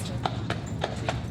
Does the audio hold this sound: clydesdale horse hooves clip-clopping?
yes